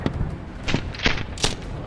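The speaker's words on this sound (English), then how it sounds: "It opens fire from a 25mm cannon." Several heavy blasts from a Bradley vehicle's 25mm cannon fire in a steady rhythm, three or four sharp booms over a low rumbling background.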